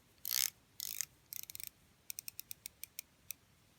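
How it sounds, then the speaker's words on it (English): A Steeldive Puck-style watch bezel turned by hand, giving two short grinding sweeps followed by a run of crisp, evenly spaced ratcheting clicks, close and quiet with no talk. "Pretty nice bezel action."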